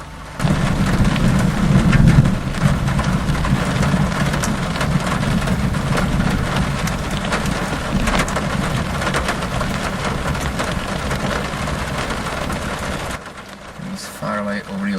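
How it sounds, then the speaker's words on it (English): Steady rain with a deep, low rumble of distant thunder rolling over the ocean in Florida, continuous and fairly loud, easing off near the end. "since it's such deep thunder. I can feel the vibrations even here."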